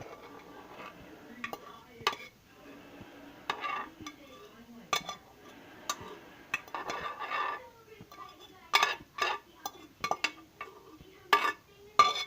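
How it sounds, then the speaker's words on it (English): Noodles being dumped into a pot while making ramen: a series of clattering metallic clinks and rustling bumps, sparse at first and then quicker and louder toward the end, close and fairly quiet, with faint talk underneath. "So now I am dumping in my noodles"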